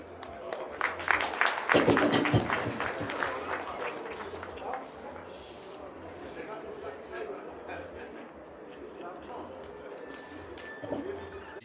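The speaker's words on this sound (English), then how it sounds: "Let's give her a round of applause once again" Applause at a university convocation chancellor's dinner: a short, dense burst of clapping near the start that fades quickly, followed by a speaker's voice over a quiet room.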